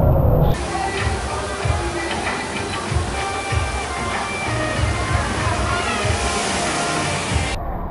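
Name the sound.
water park drum tipping and dumping water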